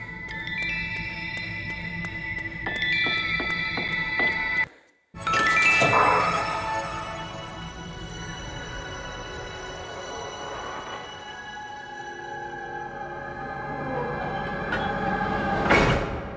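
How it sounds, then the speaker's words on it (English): A sparkling, jingling electronic shimmer marks the exit light in the Papa Sangre game. The tinkling tones repeat and keep ringing steadily, with a brief silent gap and a brighter swell near the end. "That sparky sound is the sound of the light, the exit."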